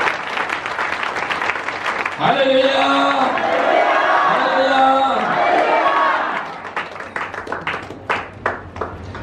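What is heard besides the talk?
congregation applauding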